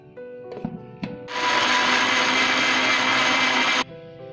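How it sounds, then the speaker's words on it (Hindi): A kitchen mixer grinder whirs at full power for about two and a half seconds as it blends 250 grams of grapes for juice, loud and close, after a few clicks and knocks as it starts. "250 ग्राम अंगूर नेचे ताको ग्राइंडिंग कर दबा"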